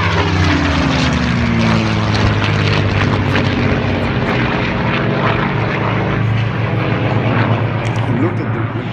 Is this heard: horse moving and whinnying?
no